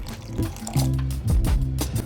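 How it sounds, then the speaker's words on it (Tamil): Water is poured into a ground fish curry spice paste in a mixer jar, a short soft liquid pour and trickle heard up close with no talking. "இந்த அளவு பொடிஞ்சதுமே கொஞ்சமாக தண்ணி ஆட் பண்ணிக்கலாம்."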